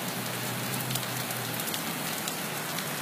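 Continuous rainfall patters on surfaces as a constant broadband wash, with a few brighter drop ticks over a low steady drone and no talking.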